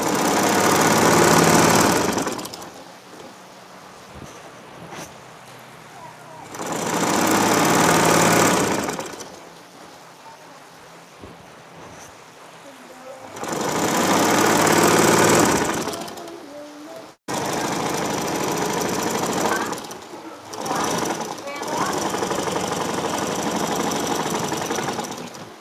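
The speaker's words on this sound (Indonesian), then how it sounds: "Kemudian kita jahit ya." Singer Butterfly sewing machine stitching a bedcover, with close, loud bursts of rapid motor whir and needle clatter in three long runs separated by quieter pauses, then a sustained stretch of stitching.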